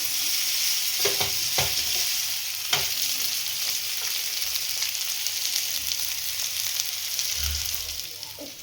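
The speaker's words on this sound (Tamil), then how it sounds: "இப்போ நல்லா கலக்கிக்கலாம்." Gobi manchurian, cauliflower pieces, being stirred and fried in a pan, with steady loud sizzling throughout and scattered scraping clatters of the spoon against the pan, no talking.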